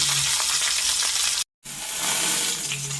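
Green chilies and bird's eye chilies frying in a pan, a steady loud sizzle that cuts out briefly for a moment before the hissing resumes.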